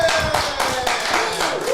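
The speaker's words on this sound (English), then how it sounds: "Give yourselves a round of applause." A brief round of applause from a small group, quick overlapping hand claps close by, with a voice speaking over it.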